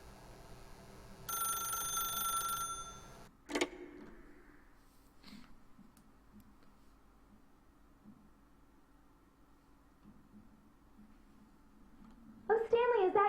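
A telephone in The Stanley Parable video game gives one short, bright ring burst, followed by a sharp knock and quiet stretches. A voice talks near the end.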